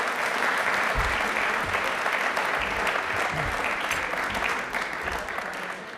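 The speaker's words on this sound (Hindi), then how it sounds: "अपने लिए एक बार तालियां जोरदार बजा दीजिए प्लीज, जोरदार वाली।" Loud, dense applause from a studio audience at a televised Hindi quiz show fills the whole stretch, steady throughout and easing slightly at the very end, with no voices over it.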